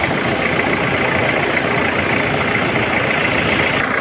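A 2.5-litre intercooled turbo diesel in an Isuzu Trooper 4x4 idles steadily with the hood open, a close, continuous low rumble and clatter with no breaks or talk.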